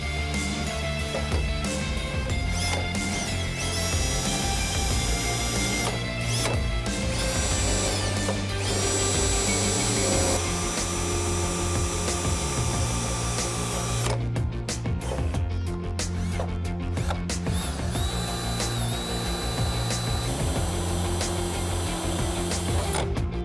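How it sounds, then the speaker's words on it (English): A power drill with a 9/64 bit whines loudly and continuously, with grinding surges and brief pauses as it bites through the sheet metal of a Ford F-150 truck bed. "take a 9/64 drill bit and we're going to drill through the sheet metal"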